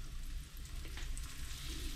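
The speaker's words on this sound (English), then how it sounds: "Look at that sizzle." Freshly caught fish from a beach pier sizzles and fries in hot oil, a close, continuous crackling hiss with no talking over it.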